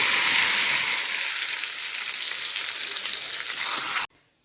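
Intense, close sizzling and crackling of spices tempering in hot oil for dal, loud and continuous, swelling briefly before cutting off.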